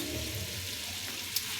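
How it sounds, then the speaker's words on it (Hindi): Butter and onion tempering sizzle in a pan, a soft continuous frying hiss at low level with a brief sharp crackle near the end and no speech. "मक्खन और प्याज का तड़का लगाने लगे ताकि ना मिर्चें थोड़ी सी कम हो जाए।"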